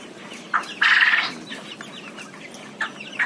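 Big-footed chickens cluck nearby in short bursts, one louder squawking call standing out, against a faint background of other birds.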